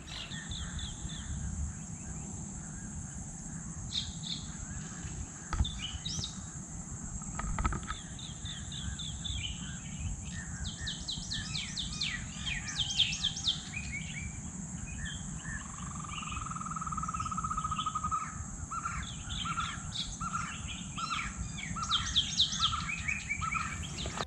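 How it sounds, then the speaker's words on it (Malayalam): Birds chirp and trill in a chorus on a small mangrove island, bursts of bright calls rising and falling over a constant high insect drone and a low background hum, with no talking. "നിങ്ങൾക്ക് ആ കിളികളുടെ ശബ്ദവും കാര്യങ്ങളും കുറച്ചും കൂടി നന്നായിട്ട് കേൾക്കാൻ പറ്റും"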